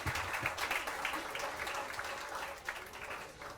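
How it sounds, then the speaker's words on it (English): An audience at a student agribusiness pitch event claps, making a dense, continuous patter of applause that sounds somewhat distant and fairly faint throughout. "another round of applause"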